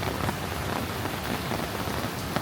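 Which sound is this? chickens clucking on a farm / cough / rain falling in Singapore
rain falling in Singapore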